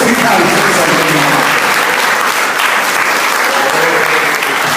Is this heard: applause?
yes